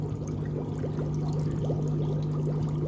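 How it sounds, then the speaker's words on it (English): Aquarium sponge filter bubbling loudly with the air turned up, a steady close gurgle and hum of water and rising bubbles, continuous and alone. "I am sick and tired of this loud sponge filter bubbling noise that is going on here"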